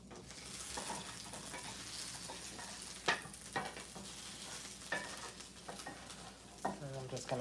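Salmon sears in a pan with a soft, steady sizzle, punctuated by a few sharp clinks and scrapes of a utensil against the pan, fairly quiet overall.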